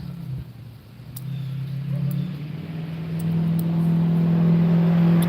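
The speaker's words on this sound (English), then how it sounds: "It's a loud truck." A loud truck rumbles past outdoors at an archery range, its low engine drone building steadily from faint to strong as it approaches, with a few sharp clicks above.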